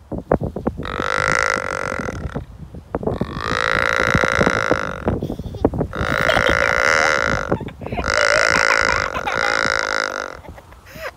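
A deer call imitating a white-tailed deer gives four long, low, grunting bleats, each lasting about two seconds, loud and close, with short gaps between them.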